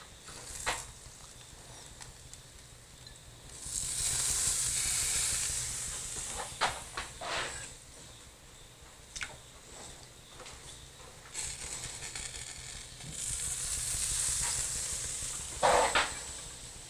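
Cracker fish fillet laid skin-side down into hot olive oil in a pan, giving a broad hissing sizzle that swells and eases in waves, with a few soft clinks and handling knocks between.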